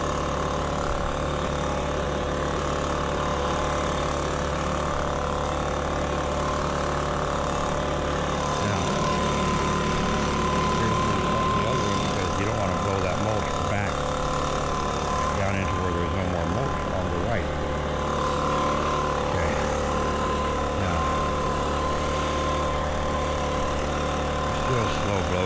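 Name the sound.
engine idling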